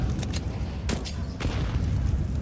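Grenade going off during a Counter-Strike: Global Offensive match on the Nuke map, a rumbling boom with several sharp bursts over steady low game noise, no talk in between.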